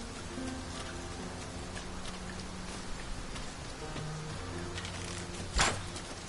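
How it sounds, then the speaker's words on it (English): Steady rain falls across an outdoor scene in Dragon's Dogma 2, a continuous hiss of drops with a brief sharper burst near the end and faint low tones beneath. "The rain ought to abate soon enough."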